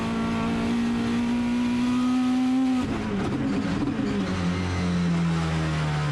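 A time-attack race car at speed on track at Sydney Motorsport Park during the 2019 Yokohama World Time Attack Challenge, its loud sustained engine note holding steady before the pitch drops sharply and settles lower, with no talk over it.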